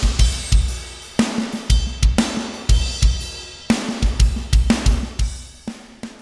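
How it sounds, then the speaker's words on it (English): Programmed death metal drum kit from a Superior Drummer sample library: punchy kick and snare hits with crashing cymbals in a driving, syncopated pattern, loud and close with dense cymbal wash and no other instruments. "Superior Drummer with the Death expansion, which I've programmed with the beheaded kid."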